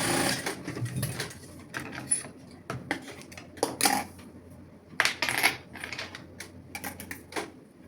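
A sewing machine stitches Christmas pyjamas in short bursts of fast mechanical whirring and clatter, stopping and starting as the fabric is turned, close and without speech.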